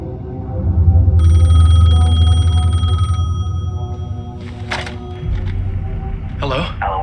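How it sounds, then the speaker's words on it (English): A payphone rings in the video game Alan Wake 2, an electronic bell tone sustained for a couple of seconds amid low ambient rumble, followed by clicks and handling noises as the ringing stops. "The payphone was ringing."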